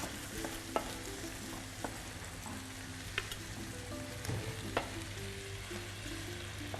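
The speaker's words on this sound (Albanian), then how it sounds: "Derisa pula të filloj të zbardhet pak." Yogurt-marinated chicken fries in a pan with a steady close sizzle and crackle, a low hum underneath and occasional sharp pops and utensil taps.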